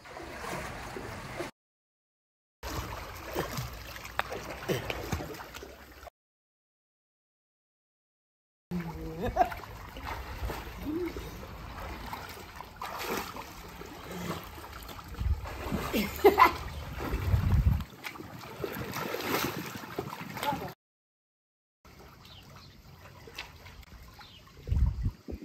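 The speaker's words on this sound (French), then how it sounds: "Nous nous baignons agréablement." Water splashes and sloshes as people swim in an outdoor pool, coming in irregular bursts broken by short silent gaps, with voices talking now and then.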